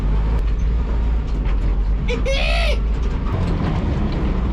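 A 1967 International Scout driving in low gear, a loud close engine rumble running steadily throughout, with a brief change in engine note midway and voices over the drive.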